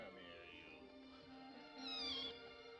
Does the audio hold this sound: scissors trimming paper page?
no